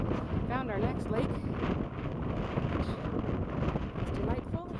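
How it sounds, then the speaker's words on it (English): Gusty wind buffets the microphone in a continuous roar beside a lake while hiking in the French Pyrenees, with a voice speaking faintly underneath. "Ooh, it's very windy"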